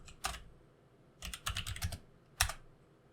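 Bursts of keyboard typing in a Space Quest III text-adventure session, several short clusters of quick key clicks at close range, with pauses between them and no talking.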